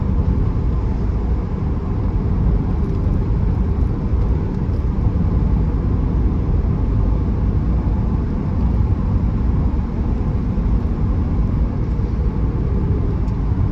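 A 1982 BMW E21 320 with automatic gearbox on the move, heard as a steady, loud interior drone of engine and road rumble that stays constant throughout, with no voices.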